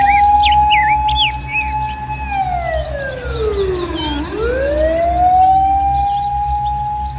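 A toy fire truck sounds its electronic siren, a loud steady wail that sweeps down and back up, with chirpy electronic tones above it and no talk.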